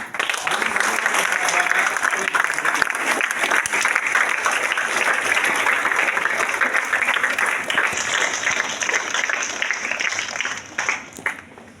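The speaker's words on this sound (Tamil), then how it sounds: "அவரை பாராட்டி வரவேற்று கரகோஷம் எழுப்பி" Schoolchildren clapping together to welcome a visiting doctor to their school, a loud, sustained wash of applause from a large crowd that holds steady before tapering off near the end.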